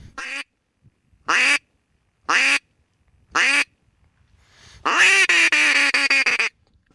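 A hand-blown duck call imitates a sitting mallard hen during a spring hunt in Yakutia, Siberia: four evenly spaced single quacks, loud and close, then a rapid run of quacks.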